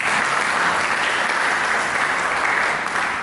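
Sustained, dense applause fills a church worship service, loud and steady from start to finish with no voices rising above it.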